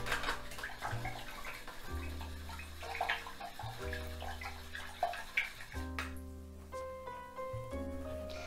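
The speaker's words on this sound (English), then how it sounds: "I'm going to rinse off my brush." A paint brush used for acrylics is swished and rinsed in water, with soft repeated sloshing and splashing under steady background music.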